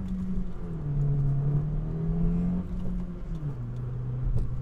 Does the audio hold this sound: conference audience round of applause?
no